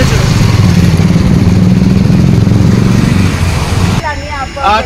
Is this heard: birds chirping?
no